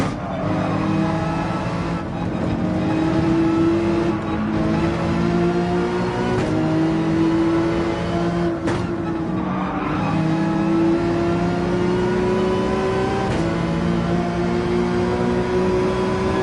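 A race car engine in a racing video game revs hard and steady under throttle, its high whine rising and dipping through gear changes, loud and close with a brief tire squeal as the car slides out.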